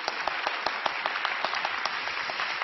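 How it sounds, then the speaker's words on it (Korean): A church congregation gives a pastor a warm round of applause as he comes forward to preach, a steady wash of many hands clapping at moderate distance with a few sharper claps standing out. "큰 박수로 환영하겠습니다"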